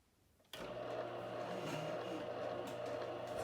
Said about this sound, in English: That is the sound of the juicer chewing on a carrot.